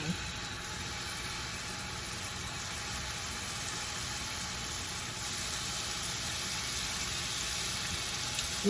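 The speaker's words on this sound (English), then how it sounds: "Love to hear that sizzle" Steady, broadband sizzling of salmon pieces frying in a hot pan, continuous and even throughout, with no voices.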